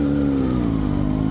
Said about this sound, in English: oh my God, that's a motorcycle